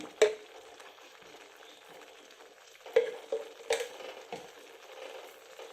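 Ghee going into a pan of moong dal khichdi: a soft, steady sizzle underneath, punctuated by several sharp clinks and scrapes of stirring, close and moderately loud, with no talking.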